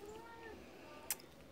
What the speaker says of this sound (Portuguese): Aí, ali tem outro gato.